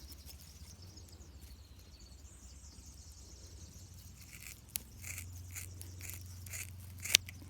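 Scissors snip off the excess length of freshly made rope from a rope machine, a few quick cuts heard faint and close in a quiet room.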